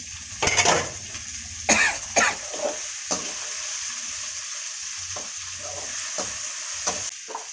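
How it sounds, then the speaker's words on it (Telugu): Bitter gourd pieces fry in hot oil with turmeric in a pan for a bitter gourd curry, giving a steady sizzle broken by several loud scraping stirs of a spoon, close and alone with no talk. "ఇప్పుడు కాకరకాయ వేసుకోవాలి బాగా వాడిన తర్వాత కాకరకాయ వేసుకోవాలి"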